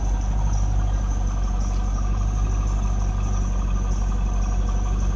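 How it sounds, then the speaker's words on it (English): A 1999 Chevrolet Corvette convertible's V8 engine idles with a steady, deep rumbling exhaust, constant and fairly loud throughout. "let's slip around to the back seat and hear this run"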